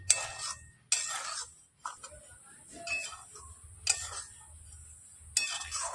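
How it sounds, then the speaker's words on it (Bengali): Semolina dry-roasting in a pan, stirred with a utensil that gives sharp, irregular scrapes and clicks every second or so against a quiet kitchen background. "সুজিটা দিয়ে দিয়েছি, এবার নাড়াচাড়া করে ভেজে নেব।"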